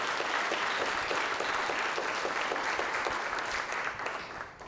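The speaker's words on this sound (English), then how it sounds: "Yes, that deserves a round of applause," Audience applause fills a room at an immigration know-your-rights training, a dense steady wash of many clapping hands that holds loud throughout and begins to thin out at the very end.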